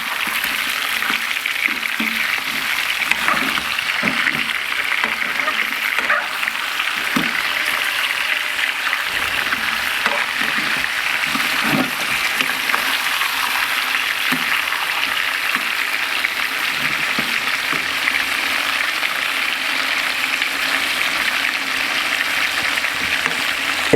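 Chicken frying in a karahi while being stirred, giving a steady, fairly loud sizzling hiss with scattered soft scraping taps and no talking.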